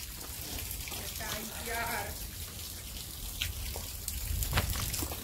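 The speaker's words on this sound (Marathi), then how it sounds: "जोरात पाऊस पडतो, धबधबा खाली पडतो" Heavy rain and a waterfall on a trek to Peb fort near Matheran make a steady, close, broadband rush of falling water, with someone speaking over it.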